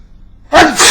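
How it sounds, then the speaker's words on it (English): A single sharp, loud human sneeze, close by, bursting out abruptly after a moment of quiet. "Had to sneeze."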